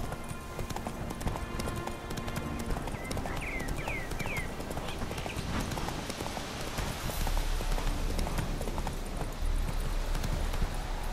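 Horse hooves clip-clop steadily across ground in The Witcher 3 video game, a dense, continuous trotting rhythm over game ambience, with a brief bird-like chirp partway through.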